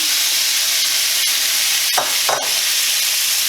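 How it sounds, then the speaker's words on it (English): Cooked shrimp tipped back into a simmering pan of garlic and basil, with a loud continuous sizzle and a couple of brief clattering bursts as they land. "So, take the shrimp. Dump it back in."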